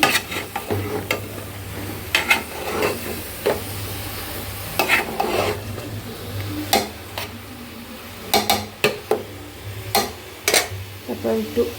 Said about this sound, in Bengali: জালি কুমড়াটা দিয়ে ভালো করে একটু কষিয়ে নিই